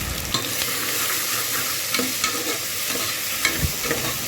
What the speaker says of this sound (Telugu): బాగా స్మెల్ వచ్చే వరకు ఫ్రై చేసుకోవాలి